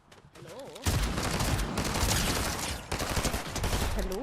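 Gunfire rattles through a video game battle, with a combat shotgun among the weapons, as dense, loud shots and a fusillade that keep going for about four seconds, with a faint voice underneath.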